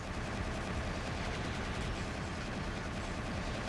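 Dense, continuous rapid gunfire from the video game Bionicle Heroes, a steady loud barrage with no pauses and no voices.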